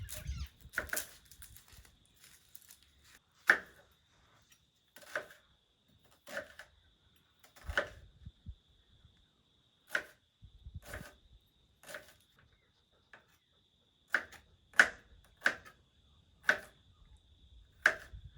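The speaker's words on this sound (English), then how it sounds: "cut up some onion" Knife chopping onion on a board for a rustic bolognese sauce in a farm kitchen, a series of sharp, separate taps at an uneven pace, close and fairly quiet with no talking.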